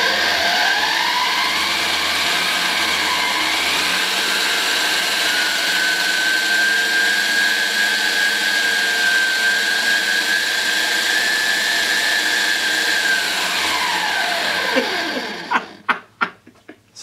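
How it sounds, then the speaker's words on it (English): A small stepper motor is spun up as an electric generator and rises into a loud, steady high whine that holds, then winds down and stops, followed by a few sharp clicks and knocks. "Here we go, ready to rock and roll. Let's spin it up."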